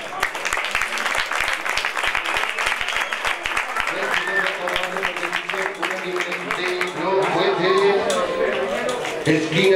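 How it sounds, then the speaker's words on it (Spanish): An audience at an elite 64 kg boxing bout in Bezana claps in brisk, dense applause for several seconds, then the clapping fades as a voice speaks over the lingering crowd noise. "El aplauso para nosotros por Chile."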